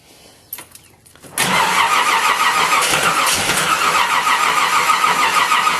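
A 350 small-block Chevy V8 fitted in a 1986 Jaguar cranks briefly on the key with a few clicks, then fires and roars into a loud, steady rumble, close up, with no talk.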